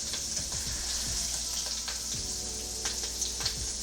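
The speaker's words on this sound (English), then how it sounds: "Yes, it's a nice sizzle." Food sizzles and crackles steadily in a hot pan, a constant hiss with little pops, fairly quiet and with no talking.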